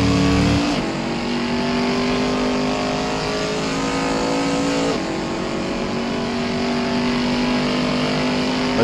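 A 1960s Mustang race car engine in a racing game, loud sustained high-revving drone with a gear-change dip, close and continuous.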